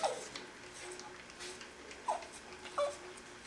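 A dog whimpering while being groomed or stripped: a few short, high whines come at intervals over quiet room noise, with faint bits of a handler's voice between them.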